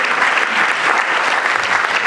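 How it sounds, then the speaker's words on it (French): A dense burst of steady audience applause for a speaker at an evening opening event of an October 2021 gathering, loud and continuous with no pauses. "On peut l'applaudir très fort"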